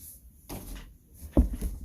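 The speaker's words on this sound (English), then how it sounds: "I'm going to close this door real quick." A door being shut indoors, a single solid thump with a brief rattle near the end, preceded by faint rustling and movement in a quiet room.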